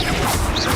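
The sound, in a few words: Bombarda blasting spell from Hogwarts Legacy video game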